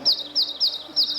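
Birds overhead at an outdoor religious gathering give bright, rapid chirps in repeated short bursts, loud and close, with a faint steady background hum beneath and no talking.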